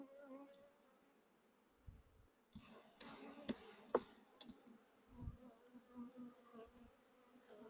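Honeybees buzzing in an open nuc hive in Pennsylvania in midsummer: a soft, steady insect drone close by, with light clicks and bumps of frames being handled.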